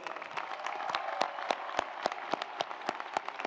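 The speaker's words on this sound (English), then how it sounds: "Let's give them another round of applause." Audience applause at a graduation ceremony, a steady wash of many hands clapping with sharp individual claps standing out, sustained and fairly even throughout.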